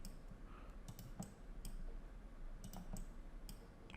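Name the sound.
computer mouse clicking in Revit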